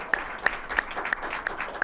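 Applause from a late-night talk show studio audience, heard as a rhythmic run of sharp, evenly spaced claps at moderate loudness, about six beats in under two seconds.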